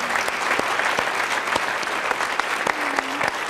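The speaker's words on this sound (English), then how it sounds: "Let's please give him a round of applause." An audience gives a round of applause for a doctor at a talk about medical rescues, full steady clapping with distinct individual hand claps popping through and a brief voice partway in.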